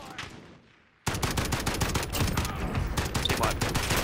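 Dense, rapid gunfire from a Call of Duty Warzone match, with a sudden burst of continuous rattling shots after a brief quiet lull.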